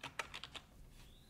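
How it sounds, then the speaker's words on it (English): A username is typed on a computer keyboard as five or six quick, faint key clicks in a brief burst, close and quiet with no talking over them. "we're gonna type a new username"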